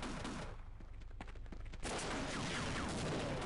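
Enemy gunfire in Half-Life, a dense rattling fusillade of rapid shots that thins briefly and then resumes in a heavy, continuous burst, distant-sounding and fairly quiet overall.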